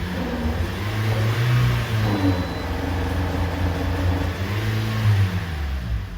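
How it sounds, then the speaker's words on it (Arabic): Toyota RAV4 engine revving in irregular surges while still running rough, a steady mid-pitched motor drone with uneven rises and dips, close and fairly loud with no talk. "ولكن الموتور مازال ما تيدور مزيان خلاص"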